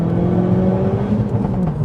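Big Mountune turbo on a manual 520 bhp Ford Focus RS spooling up, a loud steady engine drone with a rising whir heard from inside the car, with a voice over it.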